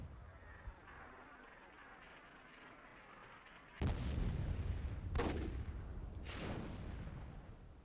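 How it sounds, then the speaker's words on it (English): A cannon shot in Myth II Soulblighter's WWII mod, a sudden booming blast that rolls into a sustained rumble, followed by further explosive bursts over a faint background. "nice cannon shot there from Scratch"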